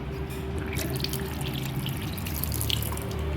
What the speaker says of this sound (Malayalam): കൈ കഴുകാൻ വേണ്ടി പോവുകയാണ്.